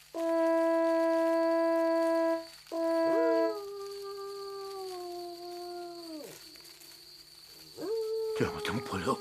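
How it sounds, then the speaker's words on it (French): A wolf's long, steady howl rings out twice, the second call sliding down and fading, then a brief rising howl returns near the end over a quiet, faintly humming background. "Le loup n'est pas loin."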